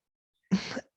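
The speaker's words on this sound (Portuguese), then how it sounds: "Ela tossiu de novo." A single short, rough cough bursts out of silence, close and fairly quiet, lasting about a third of a second.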